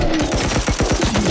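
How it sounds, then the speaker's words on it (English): A turret in the video game Dysmantle fires a rapid, rhythmic burst of loud, close automatic shots, densely spaced and continuous through the short stretch, with no voices. "The initial turret is able to dish out quite a lot of punishment."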